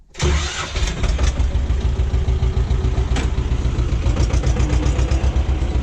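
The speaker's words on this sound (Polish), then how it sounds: "Zobaczmy jeszcze jak ciągnik sobie poradzi e, z wyjechaniem tutaj" A T-25 tractor engine starts up and settles into a steady, loud rumbling chug, close by, with no voices, as it drives off an unploughed field.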